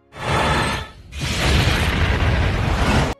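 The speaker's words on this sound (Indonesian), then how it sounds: "Dan terjadilah ledakan besar." A huge film sound-effect explosion booms, briefly dips, then surges into a long roaring blast with a deep rumble, very loud and close.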